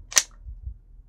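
Byrna HD pepper ball launcher magazine being inserted: one sharp, close click near the start, followed by a couple of soft, low handling thumps.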